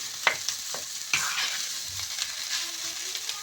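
Crushed potato masala mixture being stirred in a pan, giving a few scraping strokes over a soft, steady sizzle, close and alone.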